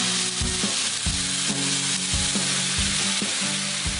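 A mushroom and Chianti red wine sauce for beef fillet bubbles in a pan, making a dense, loud sizzle that stays steady, with a regular pattern of low thumps from stirring or the pan shifting, and no talking.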